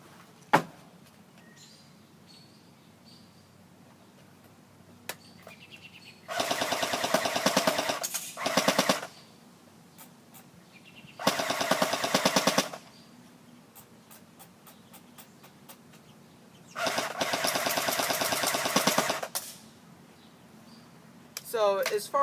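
A gun fires on full auto in three long bursts, each about two seconds of rapid sharp reports, separated by quiet gaps with faint clicks and handling sounds.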